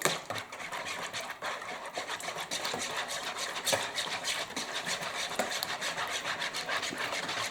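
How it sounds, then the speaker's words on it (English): Wet ingredients for Southern cornbread dressing with sweet Italian sausage whisked together in a bowl, a steady brisk scraping and rubbing with quick rhythmic strokes, close and continuous with no talk. "we're going to whisk that all in together really well"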